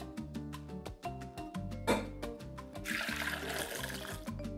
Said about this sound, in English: I'm just gonna go ahead and separate the beans from the broth.